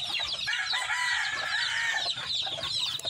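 Backyard chickens on a small farm cluck steadily in a busy flock, a close, continuous chatter of overlapping calls with no talking.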